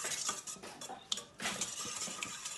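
A utensil stirs cake batter for a red fruit cake in a bowl, with steady scraping and soft clinks against the bowl and a few sharper taps, close and alone.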